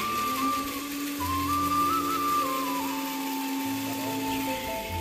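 A blender whirs as it grinds a wet spice paste of dried chillies, ginger, garlic, cumin, coriander and pepper with a little water, a steady motor whine whose pitch rises and drops as the load shifts.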